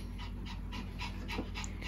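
A dog pants steadily and rapidly close by, a continuous breathy rhythm with no talking over it.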